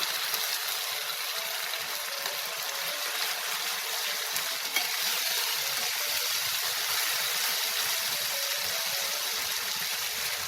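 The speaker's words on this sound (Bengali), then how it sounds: "এবার এতে আমি মিক্সিতে পেস্ট করে রাখা মশলাটা দিয়ে দেবো" Ground masala paste frying in a pan for dhaba-style egg masala, a steady soft hiss and sizzle that holds evenly at close range with no talk.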